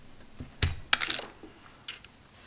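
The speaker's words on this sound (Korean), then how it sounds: "키캡을 한번 뽑아보면" A few sharp plastic clicks and a snap up close as a keycap is pried off a Keychron K3 Retro mechanical keyboard with red switches, with quiet pauses between.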